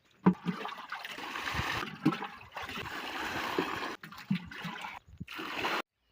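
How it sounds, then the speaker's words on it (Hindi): A cow drinks from a water supply on a farm, giving close, irregular splashing and slurping water sounds in bursts, with brief pauses between. "अब पिलाते इन्हें पानी। एक गाय पी रही है।"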